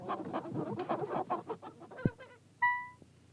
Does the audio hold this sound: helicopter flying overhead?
no